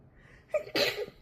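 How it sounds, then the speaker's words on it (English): A single close sneeze, a short sharp intake followed by an explosive burst, in an otherwise quiet space. "I feel like I'm going to sneeze"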